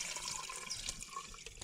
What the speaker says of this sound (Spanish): La llenamos de agua.